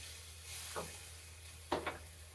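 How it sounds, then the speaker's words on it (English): Shrimp taco ingredients are stirred in a pan, with a faint sizzle under a few quiet scraping strokes of the spoon. "now that we have our ingredients in here, I'm going to give everything a good stir"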